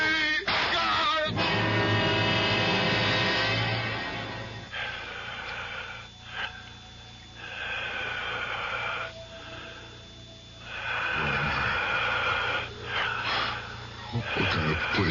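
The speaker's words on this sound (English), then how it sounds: "It sounds like the whole room is breathing." A radio-drama room effect of slow, heavy breathing swells and fades in long, close, raspy waves, with snorting, wheezing textures behind a steady low hum.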